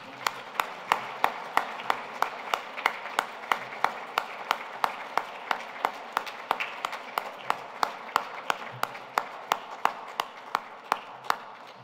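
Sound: applause

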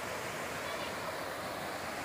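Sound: waterfall, flowing water at Nishat Garden, Srinagar

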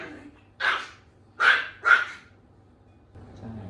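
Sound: dog barking aggressively during training

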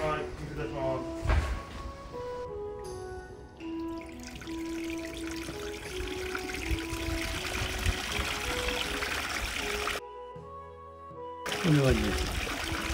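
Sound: water flowing from a Japanese garden waterfall

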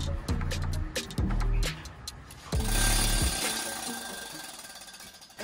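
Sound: planishing hammer shaping metal

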